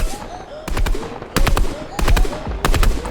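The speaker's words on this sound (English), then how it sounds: "gonna pop in a few rockets into there" Rocket launches and explosions in a Fortnite match, loud repeated bursts arriving roughly every half second to second, mixed with game noise.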